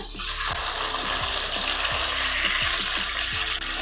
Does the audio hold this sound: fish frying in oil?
yes